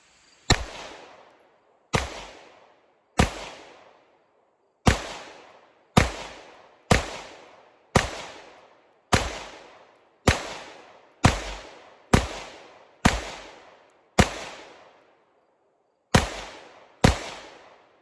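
Shots from a Shadow Systems MR920 War Poet Edition pistol ring out about fifteen times at an outdoor range, each a sharp, loud crack with a short decaying tail, fired at a slow, somewhat uneven pace with brief pauses between.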